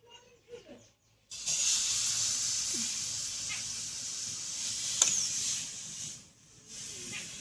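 Palm-fruit crepe batter for patishapta hits a hot, lightly oiled pan and sets off a sudden, steady, close sizzling hiss that holds for several seconds before easing slightly.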